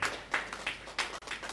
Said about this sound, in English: the applause must be bigger than this